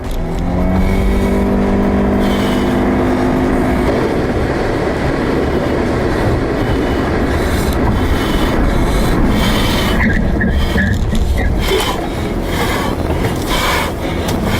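A car speeds through traffic during a chase, heard from inside as a loud, continuous roar of engine and road noise that shifts and surges but never lets up.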